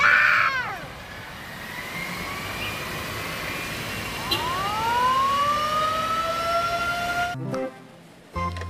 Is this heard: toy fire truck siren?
yes